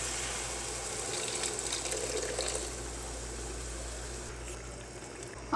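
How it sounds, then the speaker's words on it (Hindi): Water poured from a half glass into chicken masala simmering in a pan, a steady close trickle and splash lasting several seconds, alone with no talk. "थोड़ा सा पानी ऐड करेंगे।"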